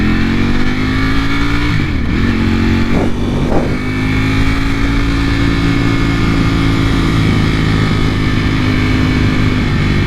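A 2020 Ducati Panigale V4 R on the road gives a loud, close, steady engine drone, with a few quick rev changes early on before it settles into an even cruising tone.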